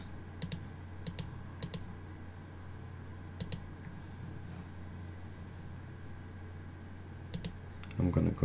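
Sharp computer mouse clicks ring out as the cursor moves across the PowerPoint tabs, a few distinct clicks spaced over several seconds against a quiet room hum, with a soft rustle at the end.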